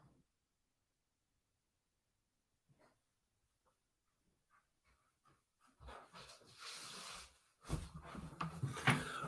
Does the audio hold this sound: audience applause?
no